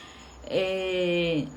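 A neighbor's cat meows close by indoors, a single drawn-out meow that rises and then falls away.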